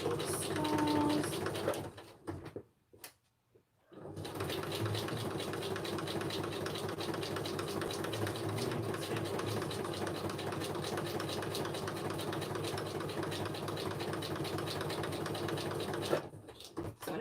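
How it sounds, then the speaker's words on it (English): A sewing machine stitches a Halloween altered frame, its steady mechanical whirring running close and loud for most of the stretch after a brief stop near the start. "It's just going to be random stitching."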